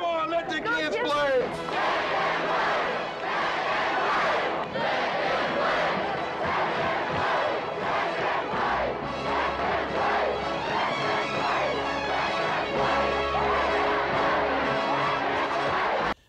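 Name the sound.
baseball crowd chanting to let the kids play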